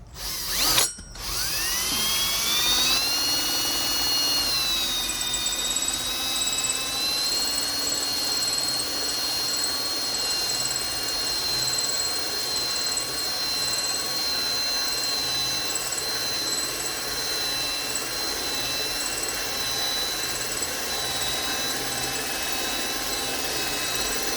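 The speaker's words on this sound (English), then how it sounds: "we drill through this piece of 4-inch cast iron with our Lennox hole saw" A Lenox hole saw grinds steadily through 4-inch cast iron sewer pipe, a loud, continuous high-pitched whine with a grating mechanical edge that holds for the whole stretch after a brief start.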